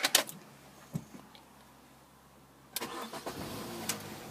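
A Mini Cooper Pepper Pack in pepper white starts up. A faint starter whir and brief clicks come first, then the engine catches with a sharp burst and settles into a close, uneven idle.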